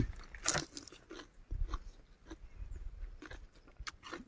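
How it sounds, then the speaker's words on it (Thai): A crunchy fresh vegetable dipped in chili paste is bitten and chewed close up, with a sharp crisp crunch at the start followed by quieter, irregular chewing sounds. "เอาไปเป็นช้อนได้เลย แล้วก็ตักน้ำพริกออกมา แล้วก็ งับเข้าไปครับ"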